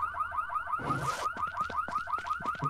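A car alarm wails in rapid repeating chirps in the survival game No One Survived, close and continuous, with a brief burst of noise like a gunshot early on.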